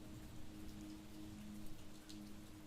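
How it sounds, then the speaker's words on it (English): Rain sound effect for an adult bedtime story set in old Japan, a steady patter of drops on a surface with a low constant hum beneath, quiet and unbroken. "But the rain did not stop."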